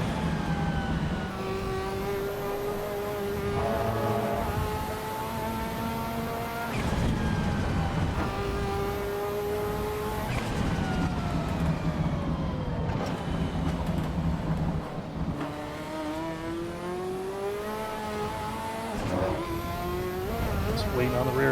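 Race car engine in Assetto Corsa Evo revving high and shifting up at around 180 mph on a road course, with loud rising engine tones that step down at each gearchange, running steadily under a voice talking.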